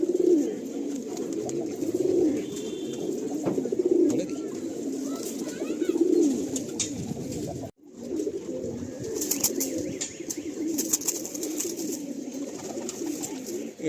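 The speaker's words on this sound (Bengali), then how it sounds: "এটাও আন্ধ্রা পেয়ার, তাই তো? এগুলো আপনার উড়িয়ে দেখা, তাই তো? হ্যাঁ, এগুলো উড়ছে পায়রা।" Andhra pigeons coo in repeated low rolling calls, close and fairly soft, with a brief gap midway and light background rustle.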